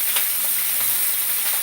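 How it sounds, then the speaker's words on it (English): Salmon searing in a sizzling hot pan gives a steady, close, bright frying hiss, with faint crackles and a light stir partway through and no voices. "So we have a sizzling hot pan with some, hopefully, searing salmon."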